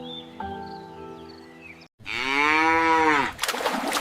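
Cow lowing nearby in one long, loud, wavering moo, preceded by a steady tonal electronic hum and followed by a burst of noisy rustling.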